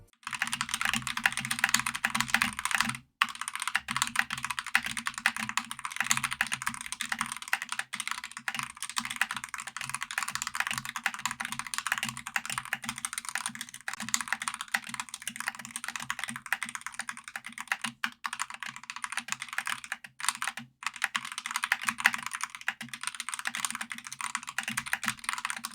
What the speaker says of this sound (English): this keyboard sounds absolutely amazing